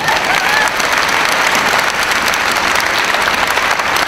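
Audience applauding a singer at a country western fair, thick continuous clapping from a crowd, loud and even.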